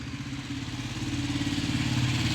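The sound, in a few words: motorcycle engine idling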